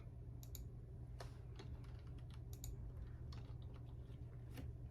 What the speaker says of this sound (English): I'm gonna just type, the recipe.